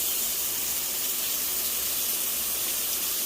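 Onions and green peppers sautéing in a pan, heard as a steady, loud, even sizzle and hiss that holds without a break.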